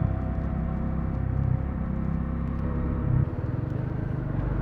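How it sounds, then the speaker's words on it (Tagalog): A Bajaj Dominar 400 motorcycle engine gives a continuous deep, throaty rumble close by, steady with a slight shift partway through, and no talking over it. "So sa tenga ko, parang siyang 1000cc na motor yung tunog."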